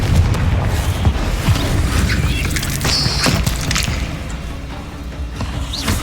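Booming spell blasts from the Confringo curse in a Hogwarts video game, dense explosive bursts over a continuous rumbling battle mix with faint voices.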